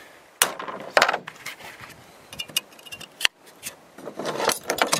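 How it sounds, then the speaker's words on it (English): Hammer strikes driving a muskrat float trap into place, a few sharp impacts with metallic rattles and clatter between them, close and fairly loud. "I'm going to hammer it one more time down here."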